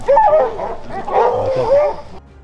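Wild boar hunting dogs give excited yelping barks and whines across a hunt in the Charente countryside, fairly close and continuous, with a brief pause midway before trailing off.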